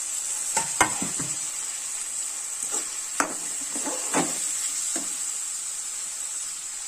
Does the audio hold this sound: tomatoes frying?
yes